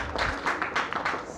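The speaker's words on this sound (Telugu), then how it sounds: "చప్పట్లు గట్టి కొట్టండి" Audience applause at a Telugu spiritual talk for Vedic students, a burst of many hands clapping with uneven rhythmic peaks, fairly loud and close, with faint voices underneath.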